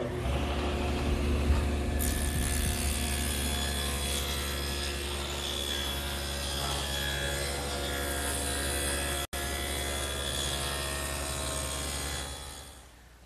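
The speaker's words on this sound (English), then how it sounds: "I've set up the table saw with a dado blade, which can be adjusted for varying widths" A table saw fitted with a dado blade cuts a 1/4-inch-wide, 1/2-inch-deep groove down the center of a wooden board for a chest of drawers, giving a loud, steady whirring drone that holds for about twelve seconds before winding down.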